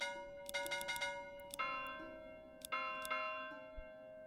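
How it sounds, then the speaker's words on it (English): Bells ring in the medieval village of Manor Lords, a series of clear metallic chimes struck in an irregular cluster, each tone ringing out and decaying over a quiet background. "Bell sound."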